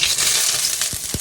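Oil heats in a pan for cooking cabbage, giving a steady bright sizzling hiss, with two soft low knocks near the end.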